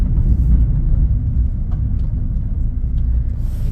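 A vehicle drives through a forest at night, giving a steady, close, low engine rumble with road noise and no voices.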